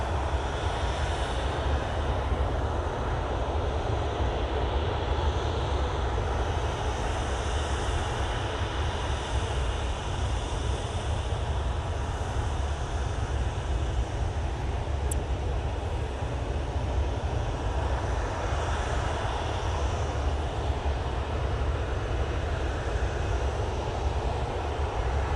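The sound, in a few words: EasyJet airliner from Isle of Man arriving at Manchester Airport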